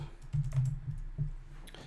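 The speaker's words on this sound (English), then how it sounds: "let's try and type" Keys tapped on a computer keyboard in a short, quiet burst of uneven clicks at close range, with no talking.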